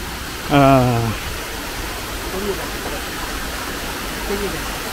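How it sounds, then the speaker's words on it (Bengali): Chhoto Mahakal waterfall flowing in the monsoon, a steady broadband rush of falling water heard from a distance, with a short voice at the start and faint sounds over the continuous roar. "এই ঝর্ণাটাকে ছোট মহাকাল ঝর্ণা বলে"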